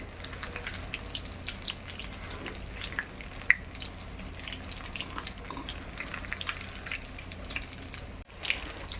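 Chicken pakora fries in hot oil, a steady close crackling sizzle with scattered pops and a few sharp metallic clinks from stirring and lifting the pieces out.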